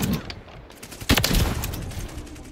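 Gunshots in Call of Duty Modern Warfare III Search and Destroy, a sharp loud report followed by a longer rattling burst over constant game noise.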